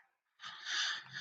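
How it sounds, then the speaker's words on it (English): A single short, breathy sneeze, close and quiet, with a sharp airy burst after a brief intake of breath. "I'm gonna sneeze."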